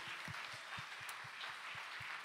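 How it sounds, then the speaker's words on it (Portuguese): Faint, distant applause from a church congregation at a Portuguese-language service, a soft continuous wash of clapping with a regular low thumping beat underneath. "Pode aplaudir o Senhor Jesus."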